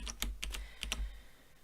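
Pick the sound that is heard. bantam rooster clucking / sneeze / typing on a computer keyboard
typing on a computer keyboard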